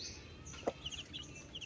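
Newly hatched chicks in a small pen giving a few faint, scattered clucks and peeps, one brief sharper call standing out over soft background noise.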